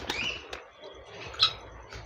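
Black American Jumbo pigeons at an exotic bird farm in Thanjavur flap their wings in a few quick bursts, close and moderately loud, with faint coos and chirps from other birds in between.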